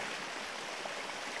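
Steady broadband rush of river water at the confluence of the Golyama and Selska rivers near Zagrazhden, continuous and moderately close with no voices.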